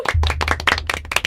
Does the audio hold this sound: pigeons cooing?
no